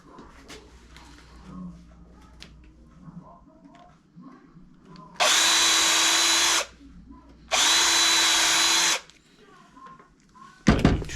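A power drill drives screws into a wooden brooder box in two loud, close, steady bursts of about a second and a half each, set against quiet workshop handling noise.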